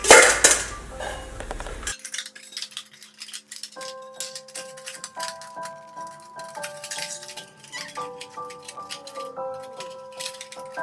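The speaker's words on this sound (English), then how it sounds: "store it inside your titanium pots and pans" Titanium camping pots and pans clink and rattle against each other close by, sharp metallic taps and ringing tones sounding in an uneven rhythm with no talking.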